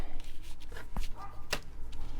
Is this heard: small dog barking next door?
yes